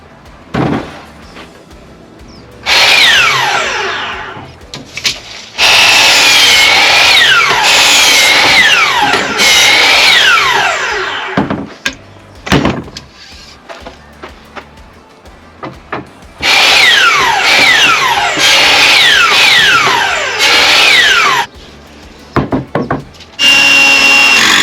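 A sliding miter saw whines and bites through wood for a shelf on plastic folding tables outdoors, several loud cuts of a few seconds each separated by short gaps with knocks and handling clatter.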